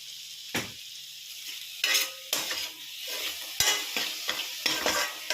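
Mushroom fried rice with chilli sauce and soy sauce is stir-fried in a pan. It sizzles close up under repeated scraping, tossing strokes that come in irregular bursts.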